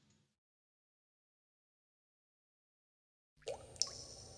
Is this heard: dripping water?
yes